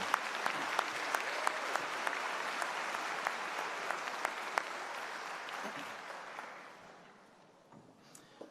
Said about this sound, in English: Let's give them a big round of applause for their wonderful music today.